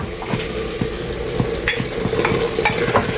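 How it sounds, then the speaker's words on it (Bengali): Meat being stir-fried in a pan, with steady sizzling and frying under repeated scraping strokes of a spatula, close and fairly loud, with no talking. "দেখো যে মাংস রান্না চলতেছে"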